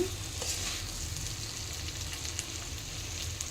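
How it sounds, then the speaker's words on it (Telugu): Pieces of kavidi gadda (kanda gadda) tuber fry in oil, giving a constant close hiss and crackle that holds evenly from start to finish, with no voices. "ఇప్పుడు కావిడి గెడ్డేసుకుందామండి ఒక టూ మినిట్స్ ఫ్రై చేయండి నూనెలోనే"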